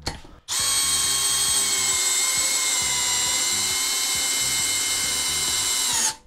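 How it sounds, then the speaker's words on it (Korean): An AIMSAK BL14T503 hammer drill in drill mode bores into very hard wood with a loud, close, continuous whine over a fast pulsing hammer rhythm for about six seconds, stopping abruptly. "자, 이제 드릴 모드로 해서 끝까지 한번 박아볼게요."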